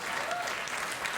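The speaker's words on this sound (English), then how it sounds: "I can't believe you're clapping that." Studio audience on a late-night TV talk show breaks into steady applause, a dense, loud wash of clapping filling the whole brief moment with no pauses.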